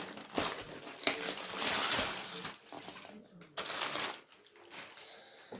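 A worn cardboard shipping box is opened, with crinkling, tearing and scraping handling noises in uneven bursts, close to the mic.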